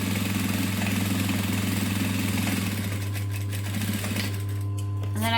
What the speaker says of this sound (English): stitch with a 1/4 inch seam allowance for this one